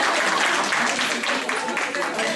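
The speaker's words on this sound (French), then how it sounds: "Applaudissements pour Lies." Audience applause at a charity event for SOS Children's Villages in Algeria, honoring a photographer: a steady, dense wash of clapping from a sizable crowd, sustained and fairly loud throughout with no pauses.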